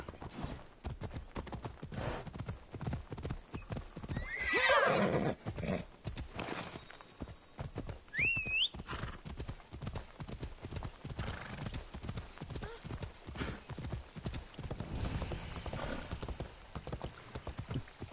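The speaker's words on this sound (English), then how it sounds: "The auto drive on these horses is a little weird." Horse hooves clip-clop steadily in Assassin's Creed Odyssey, a continuous rhythmic trot under game ambience with a brief neigh partway through and a short drop-out before the hoofbeats resume.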